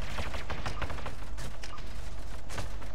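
Dense rapid gunfire from Star Wars Battlefront 2 with a Mass Effect mod, loud bursts of automatic shots crackling continuously with no pauses.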